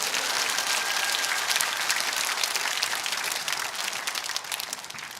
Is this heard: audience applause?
yes